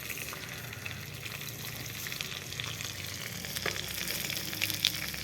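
Potatoes, pumpkin and carrots fry in hot oil in a kadai, giving a continuous dense sizzle with light crackles and occasional stirring clinks, close and moderately loud.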